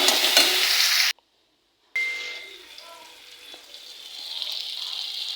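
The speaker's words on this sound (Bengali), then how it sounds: "আমি সবগুলো মশলা একসঙ্গে দিয়ে আমি কষিয়ে নিচ্ছি।" Spices are being fried (koshano) together in a pan for a cabbage bhorta, making a bright sizzle that cuts out briefly, then returns as a quieter hiss with faint stirring clinks.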